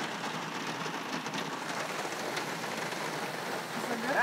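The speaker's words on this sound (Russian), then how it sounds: "Дождик стучит по окнам." Summer rain patters steadily on the windows of a parked car beside a lake, a dense, even hiss of drops close by with no voices.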